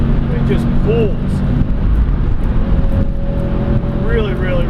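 A Subaru STI hatchback engine drones loudly and continuously while driving, a steady dense roar with faint rising tonal whines as it pulls, no voices heard.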